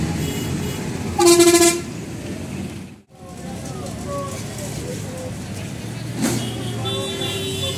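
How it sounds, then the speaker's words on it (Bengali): Car horns honking in a heavy road traffic jam, one loud horn blast near the start and another shorter toot later over continuous engine and street noise, with voices talking. "আর প্রচণ্ড জ্যাম, দেখতে পাচ্ছ রাস্তায় প্রচণ্ড জ্যাম"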